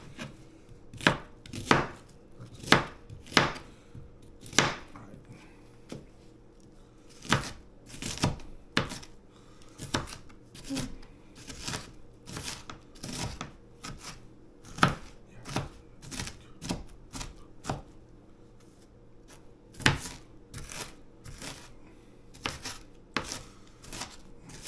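A knife chops fresh onions on a cutting board in irregular bursts of crisp, close thuds, with brief pauses between runs and no talking.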